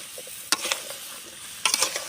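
Chunks of taro stirred into a pan of frying chicken curry masala, giving two bursts of scraping and clattering over a low background sizzle, close and moderately loud.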